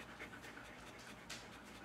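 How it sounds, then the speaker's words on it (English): A Shepsky puppy that isn't feeling well pants close by, a quick, steady, breathy rhythm of short huffs with a faint scratch near the end. "So you're just gonna sit there and pant."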